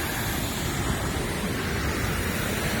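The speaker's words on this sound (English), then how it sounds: "And then we went around to the waterfall" Waterfall at Mina Creek in Paronella Park, North Queensland, giving a steady, loud rushing roar of falling water that stays constant throughout with no voices.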